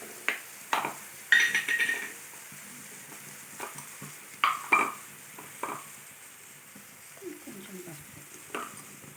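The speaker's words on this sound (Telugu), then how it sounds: "కరివేపాకు, జీలకర్ర అయితే ఇంకా వేసుకొని మిక్స్ చేసుకోవాలి." Curry leaves and cumin tempering in a hot pan while being stirred, giving soft intermittent crackling bursts and scraping clinks at close range, with faint quiet stretches between.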